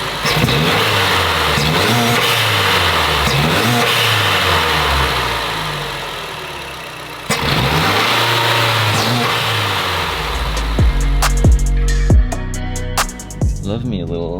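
A Mazdaspeed 3 turbocharged engine with a large aftermarket intake revs up and down repeatedly, loud and close, with rising and falling engine tone, then settles to a rumbling idle with a few sharp blips near the end.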